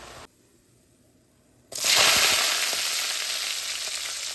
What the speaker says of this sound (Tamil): இப்போ பூண்டும் போட்டு தாளித்து போட்டு அதுக்குள்ளே இந்த அவிச்ச கோவாவை கொட்டி தேங்காய் பூவும் போட்டு தூளும் போட்டு வறுத்து கொள்ளலாம்